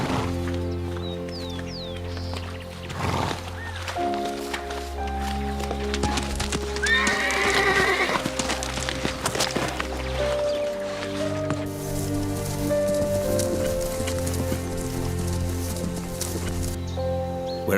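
Feral horses in Western Australia's Gibson Desert fighting for rank within a band, with loud shrill whinnies and squeals, pounding hooves and scuffling thuds, close and continuous under a steady music bed.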